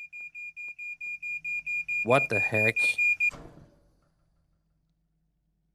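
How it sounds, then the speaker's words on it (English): Fire alarm in the video game At Tony's: an even, rapid series of electronic beeps repeating for several seconds, with a person talking over the middle stretch before the beeping stops abruptly. "That's a fire alarm?"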